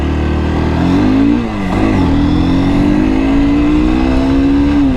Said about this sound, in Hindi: गाड़ी हमारी अभी फर्स्ट गियर पे और हम इसको पुश करते हैं